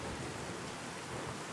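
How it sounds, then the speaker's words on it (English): Steady rain with low thunder rumble in the video game Fallout 4, a constant broadband wash of falling rain that stays even and unbroken throughout, with no voices over it. "It's raining."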